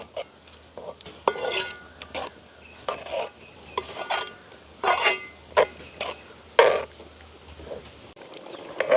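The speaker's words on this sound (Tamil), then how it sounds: "அதையும் படிவாக கலந்து விடுவோம்" A spoon scrapes and stirs through thick curry in a pot, in irregular strokes with brief pauses, close by.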